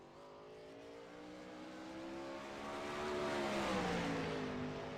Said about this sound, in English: Seeing some of the cars out there on the speedway.